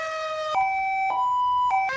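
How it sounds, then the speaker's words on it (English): A loud two-tone emergency siren in the video game Project Zomboid alternates between high and low pitches in a steady hi-lo pattern, close and clear with no talk. "here comes the sirens."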